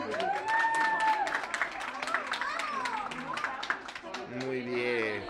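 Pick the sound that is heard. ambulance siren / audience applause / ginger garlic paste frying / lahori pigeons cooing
audience applause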